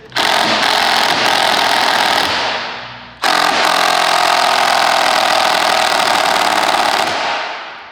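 Impact wrench fitted with an extension hammering at a very tight bolt on a Chevy, two long sustained bursts of loud rattling impacts with a brief pause between, close by with no talking.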